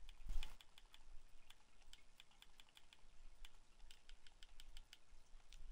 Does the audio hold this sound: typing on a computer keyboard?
yes